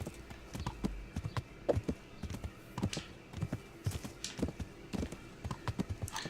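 Horse hooves clip-clop in a steady, even walking rhythm in the medieval game Kingdom Come: Deliverance, heard close up and alone without talk.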